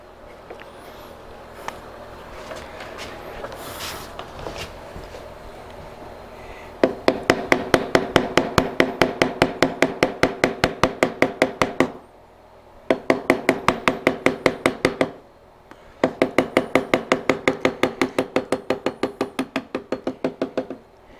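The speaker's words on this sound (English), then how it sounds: "I'm using IBC chisels" IBC chisels cutting into wood on a drawer repair, heard as bursts of rapid, evenly spaced mallet taps close by, in three runs broken by short pauses after a quieter opening.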